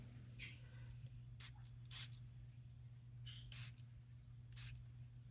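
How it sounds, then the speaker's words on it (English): Nuvo shimmer powder being sprayed again over crusty areas, heard as several short bright hissing spritzes at irregular intervals over a steady low hum, fairly faint and close, with no talking. "I'm going to spray it again where it's crusty"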